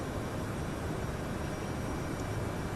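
Airliner engines at climb thrust in a flight simulator game make a steady, dense broadband roar that holds evenly throughout with no talk.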